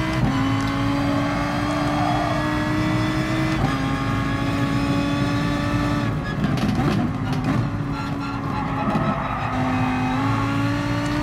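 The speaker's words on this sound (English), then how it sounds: "A little bit of traction loss you can hear coming from the tires." A Lamborghini Huracán GT3 race car in Gran Turismo Sport loses grip through a sweeping S-section at Sardegna, its engine droning loud and steady with harmonic shifts while faint tire scrub rises midway.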